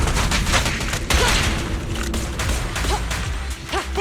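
Gunfire and chase action in the video game Zenless Zone Zero, played on PlayStation 5, form a dense, loud, continuous wash of shots and mechanical clatter with a few brief tonal accents.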